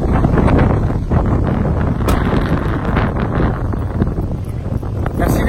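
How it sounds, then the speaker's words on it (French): Strong wind buffets an outdoor microphone at a car meet with a Honda VTEC car, a loud continuous low rumble with gusty surges, while people talk faintly underneath. "Un peu de vent, ça fait du bien."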